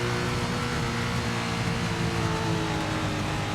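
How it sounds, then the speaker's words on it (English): Race car engine in SRX: The Game droning steadily and bogging down, a continuous loud mechanical hum with no clear revving rise, heard alone. "you can hear it bog down like that,"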